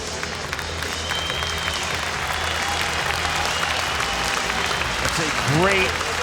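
A St. Petersburg crowd at an MMA fight breaks into sustained applause, dense and steady throughout, with a commentator's voice over it.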